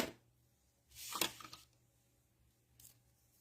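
Scissors cut through washi tape in a quiet room: one longer crisp snipping swipe followed later by a single short faint snip, with no voices.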